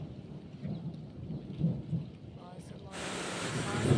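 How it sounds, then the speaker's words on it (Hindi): Thunder rumbles low and heavy through a village rainstorm, building in bursts before a steady wash of rain takes over and grows louder near the end. "बिजली कटक रही है,"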